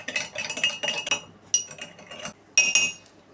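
A spoon stirring milk and sugar in a glass or cup while packing a lunch box, heard as bright clinks in three quick bursts, close up with no talking.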